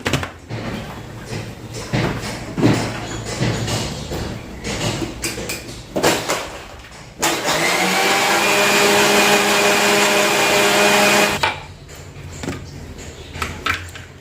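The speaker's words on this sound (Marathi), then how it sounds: "आता हे चांगलं मिक्सरला फिरवून घेते" Short clatters and knocks, then a mixer grinder whirs loudly and steadily for about four seconds blending a chikoo and milk shake before stopping, followed by more handling sounds.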